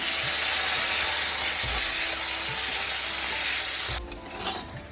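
Bitter gourd pieces fry in hot oil, a dense steady sizzle with scattered soft spoon scrapes and stirring clunks, close and continuous before dropping quieter near the end.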